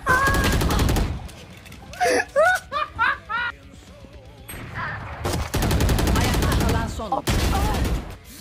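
Gunfire in the shooter game Valorant comes in loud, dense bursts at the start and again later, between stretches of laughing and excited voices.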